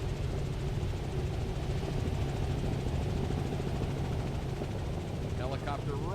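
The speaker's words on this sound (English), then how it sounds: "Helicopter right over the top of them." Helicopter flying low overhead at an offshore powerboat race, a steady loud rotor and engine roar with racing boat engines mixed in, while voices talk faintly near the end.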